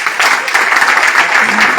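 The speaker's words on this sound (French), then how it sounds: "On applaudit Babou Lora." Loud, close audience applause at a political gathering for Babou Lora, dense steady clapping throughout with a faint voice beneath.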